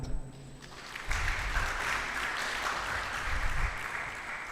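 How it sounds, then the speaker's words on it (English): Audience at a book launch breaks into applause for the organizers, a steady wash of clapping starting about a second in and holding fairly evenly, moderately distant. "they deserve the best hand clap"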